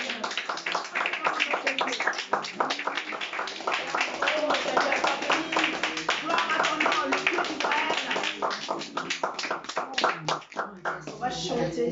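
A congregation clapping in steady rhythm during a worship service in Lyon, sustained throughout under voices singing and calling out.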